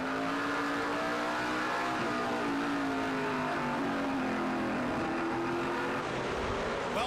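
A race car engine roars steadily from on board the Rockstar car at the Wilson Equipment 300, a loud, continuous drone with the pitch sliding gently as the car holds speed, with no talk.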